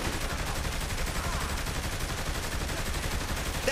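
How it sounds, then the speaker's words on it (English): Rapid automatic gunfire erupts in the Saints Row The Third video game, a dense, loud, unbroken barrage of overlapping shots with no pause and no talking. "Hey, let's just shoot these motherfuckers."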